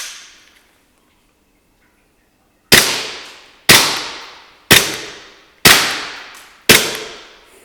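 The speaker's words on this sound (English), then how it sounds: "we're going to fire a couple of shots with it" A WE Glock 17 gas blowback airsoft pistol firing five sharp, loud cracks spaced about a second apart after a stretch of near silence, each shot with a short decaying tail.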